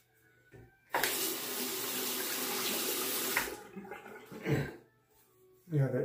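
Tap water pours loudly into a sink for about two and a half seconds while a razor is rinsed after a shave, then stops, followed by brief splashes and a short voice.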